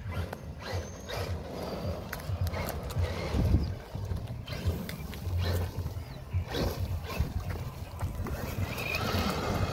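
A Traxxas Maxx RC truck accelerates outdoors, its electric motor whining in uneven bursts amid rough crunching and thumps from the tires over the ground, fairly quiet and distant.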